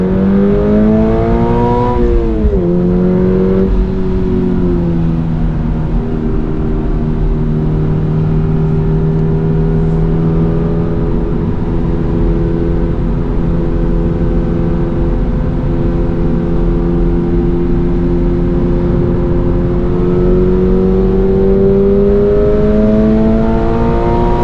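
A 2024 Subaru BRZ tS flat-four engine revs and blips through heel-toe downshifts on a wet lap of Road America, a loud steady in-car drone with rising and falling pitch sweeps.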